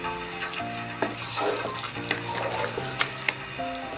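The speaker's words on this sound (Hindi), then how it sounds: "हम घी डाल के इसकी और अच्छी सी भुनाई करेंगे" Grated carrots for carrot halwa fry in ghee, producing a soft sizzle broken by stirring scrapes and light clinks, with a faint steady hum behind.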